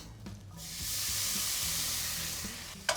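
Garlic and capers dropped into a frying pan with a little oil, a steady bright sizzle that swells after a quiet start and holds, close up, ending with a short clatter.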